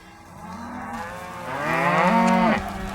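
Cattle moo during a staged weaning of cows and calves fitted with anti-nursing nose tags, two overlapping drawn-out bellows rising and falling, loud and close with a low farm rumble behind.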